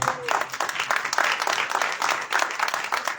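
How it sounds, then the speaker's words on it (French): Audience applause for a performer at a French concert or stage show, a steady wash of many hands clapping that holds for about three seconds with slight swells, fairly close and dense, with no voices on top. "Allez, on peut l'applaudir."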